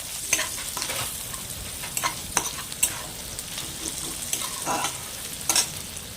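Onions frying in hot oil with a pinch of salt in a pan, a soft continuous sizzle broken by repeated scraping stirs of a spatula, fairly quiet and close, with no talking.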